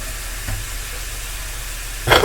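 Ground meat browning in a pan for shepherd's pie gives a steady, soft sizzle and hiss, with a louder burst of sizzling near the end as it is stirred.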